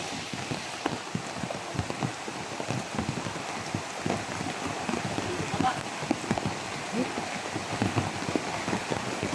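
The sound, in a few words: rain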